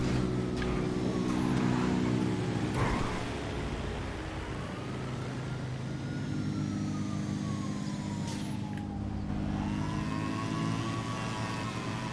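Race car engine in a GTA FiveM multi-lap race, revving and climbing through gears with rising and falling pitch sweeps, a steady loud drone throughout with a brief shift near the start.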